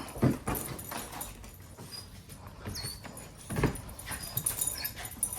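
A small dog jumping up outdoors, with scrabbling thumps of paws and light jingling of tags in a couple of sharp bursts, close and moderately loud over a low background hum.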